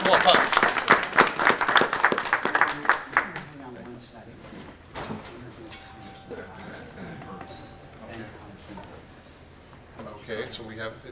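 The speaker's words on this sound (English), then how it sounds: "Big round of applause." An audience at a congressional briefing on the National Infrastructure Bank Act applauds for a few seconds, dense clapping fading out, followed by scattered talking and room noise.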